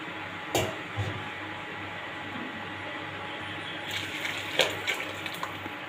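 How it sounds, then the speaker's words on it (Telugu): Water poured from a cup into rice in a cooking pot gives a steady splashing, trickling flow throughout, with a couple of brief clinks and splashes, near and moderately loud, no speech. "ఈ గిన్నెతో నేను 2 గిన్నెల నీళ్ళు పోస్తున్నాను"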